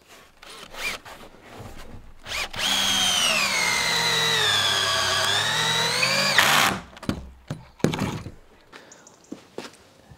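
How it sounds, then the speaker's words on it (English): A power drill drives a long screw into timber wall framing, whining steadily for several seconds with the pitch dipping under load, followed by scattered knocks and handling clatter. "So now I can get some long screws in and link them together."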